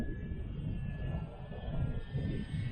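A Fun Cub 1100mm EPO foam RC airplane with ailerons drones on its maiden flight, its electric motor a steady low hum that swells and fades gently as it passes at moderate distance.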